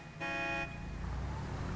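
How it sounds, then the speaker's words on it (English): A single short car horn blast sounds in a police roleplay video game, a bright steady honk of about half a second over low engine and road rumble. "Hold on, you might hear a horn."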